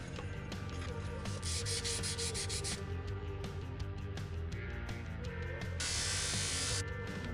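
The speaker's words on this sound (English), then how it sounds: "And we're sanding with 400, 600, and 1000 grit sandpaper." A Bonney 199 utility knife is hand-sanded with 400, 600 and 1000 grit sandpaper, giving steady scratchy rubbing strokes in bursts over a constant background hum.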